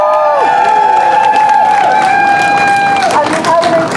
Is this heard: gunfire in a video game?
no